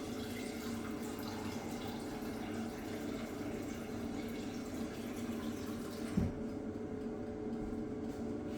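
Tap water runs steadily into a pot or sink in a home kitchen while chicken pasta with mushrooms is being cooked, a faint, continuous close-up flow with a brief clunk near the end.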